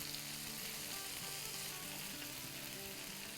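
Chicken tikka pieces sizzle loudly and steadily in a pan just after being flipped, a constant hot frying hiss with soft background music underneath and no talking.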